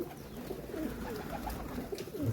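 Soft pigeon coos drift through a faint, steady background hum, low and somewhat distant.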